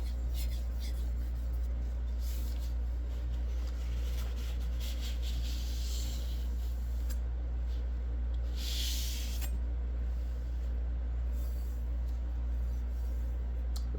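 A wrought iron gyuto knife's convex edge is polished on a stone, a soft steady scraping hiss in repeated strokes over a constant low hum, close and fairly quiet.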